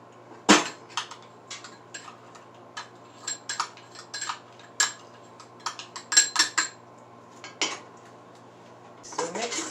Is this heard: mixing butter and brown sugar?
yes